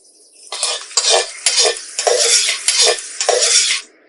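Red chillies frying in very hot oil in a pan while being stirred with a metal utensil: loud, close sizzling with rhythmic scraping and clinking strokes about every half second, no talk.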